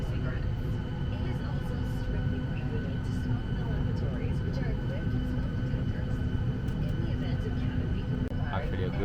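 Turkmenistan Airlines airliner taxiing, heard from inside the cabin as a steady low engine rumble and hum that continues throughout at moderate level.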